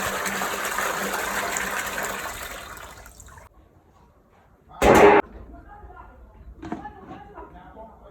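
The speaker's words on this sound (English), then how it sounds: "I'll pour everything in this bucket and in another bowl to keep till the next morning" Sieved pap (ogi/akamu) pours into a bucket with a steady liquid gush for a few seconds, then trails off into quieter handling broken by one sharp, brief clatter and faint knocks.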